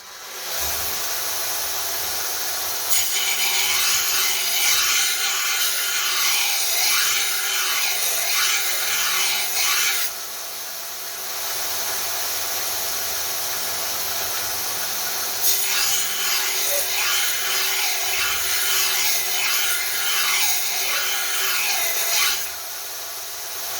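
A file works the bevel grinds on a friction folder knife blade in two long stretches of steady back-and-forth rasping strokes, each lasting several seconds, separated by a quiet pause, close and fairly loud with no talking.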